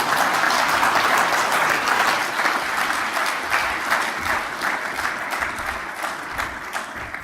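Audience applause after a conference presentation on education technology, a dense, sustained burst of many hands clapping in a hall, loud and steady before slowly thinning toward the end, with no voices over it.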